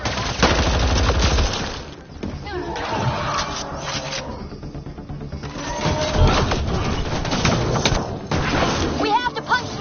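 Rapid automatic gunfire and bursts of shots in the sci-fi shooter Mass Effect Andromeda, loud and sustained throughout, mixed with game effects and some talk.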